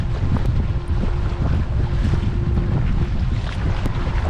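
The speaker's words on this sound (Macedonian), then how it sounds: "Ау, ветер има." Gusty wind roars over open water on Lake Ohrid while boating, a steady loud rush with buffeting against the microphone and faint splashing underneath.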